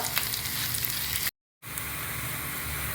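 Finely chopped onion sautés in a pan for bun dosa, a steady close sizzle with light stirring, broken by a brief moment of total silence before the frying resumes.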